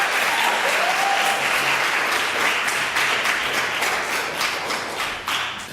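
Sustained audience applause and clapping at a spoken word poetry event at a conference, a dense, loud wash of hands that runs steadily throughout and eases slightly near the end.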